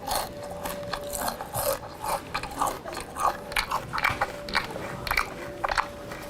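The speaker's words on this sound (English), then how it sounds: "Loud chewing." Loud, wet chewing and crunching close up, with irregular bites and smacks repeating throughout, no voices.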